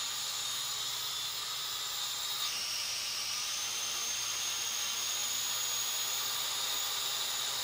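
A Syma X5C-1 quadcopter's small motors whine steadily in a high-pitched drone, the pitch shifting partway through as throttle changes, close and continuous with no voices.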